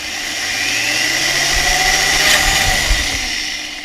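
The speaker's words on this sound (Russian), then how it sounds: "И сверлим. Так, одно отверстие готово." A power drill whines steadily as it bores through a laptop's plastic casing, its motor pitch wavering slightly under load, loud and close with no voices.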